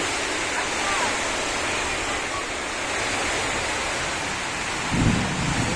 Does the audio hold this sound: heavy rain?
yes